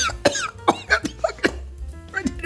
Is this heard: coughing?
yes